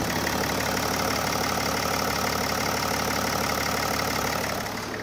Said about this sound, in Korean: 자, 바로 엔진음 들려드릴게요.